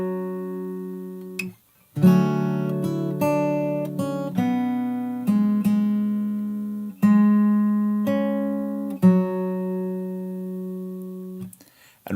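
Fingerstyle acoustic guitar plays the verse of a song, with clear plucked notes and chords ringing out in a slow, steady pattern, close and alone after a brief pause at the start.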